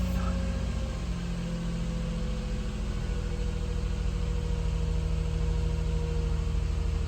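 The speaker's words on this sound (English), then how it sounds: "It seems to be running a lot smoother than it was." Steady idle from a Nissan Xterra engine after a P0300 misfire was diagnosed and its codes were cleared, a close, even hum with constant vibration and no one speaking.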